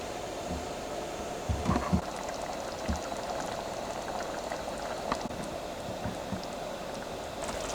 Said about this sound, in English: Turn the heat up and get it to start simmering.